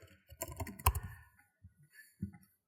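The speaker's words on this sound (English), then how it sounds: "Right now I'm typing it in directly." A computer keyboard is typed on close up in a quick burst of clustered keystrokes, a pause, then a few scattered taps, all without talking.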